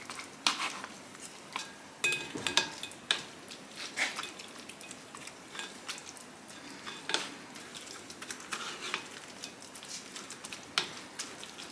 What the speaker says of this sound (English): with a wooden spoon I'm just going to press through as much as I can